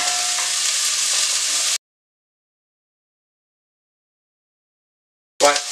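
Onions sizzle steadily in a saucepan, a dense hiss for under two seconds, then silence before the frying noise briefly returns.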